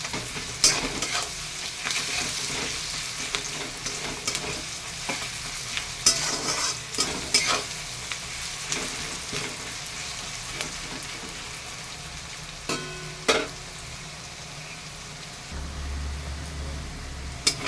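Onions frying in a pan, lightly salted, with a constant soft sizzle broken by repeated sharp scrapes and clacks of stirring, near and without talk.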